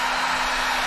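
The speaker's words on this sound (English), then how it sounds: "It's a hair dryer, basically" A heat gun blows hot air in a steady, loud, unbroken rushing whoosh with a faint low hum underneath, heard alone.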